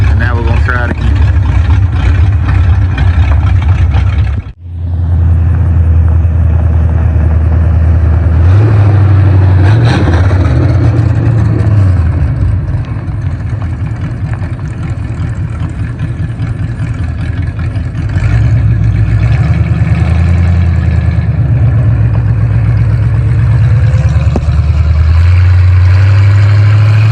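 A 1968 Mustang's engine runs while the car sits jacked up on stands after a long storage, a loud steady idling rumble with brief dips and surges as someone talks over it.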